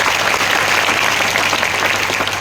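Steady, dense applause from a large crowd gathered for a kirtan in a village pandal, loud and continuous without a break and with no voices standing out above it.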